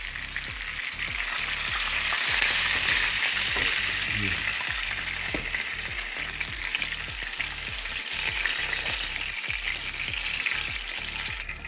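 Butterfish sizzles steadily in hot oil, a continuous crackling fry close up, with occasional stirring scrapes.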